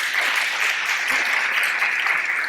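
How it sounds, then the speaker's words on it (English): Audience applauding a medical panel on cannabis education, a steady dense wash of many hands clapping at moderate loudness, even throughout with no voices over it. "I would like to give them a round of applause"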